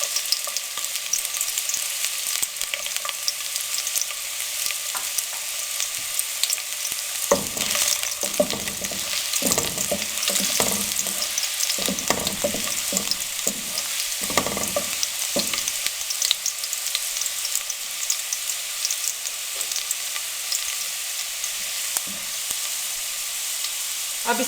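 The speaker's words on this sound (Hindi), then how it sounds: "लहसुन को हम 1 से 2 मिनट के लिए अच्छे से फ्राई कर लेंगे" Chopped garlic fries in hot cooking oil in a wok, giving a steady close sizzle throughout, with bursts of stirring and scraping in the middle.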